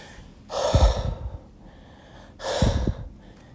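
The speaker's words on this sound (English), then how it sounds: "you would probably take some deep breaths" Someone takes two deep breaths, each a loud, airy, breathy rush lasting about a second, separated by a short quiet pause.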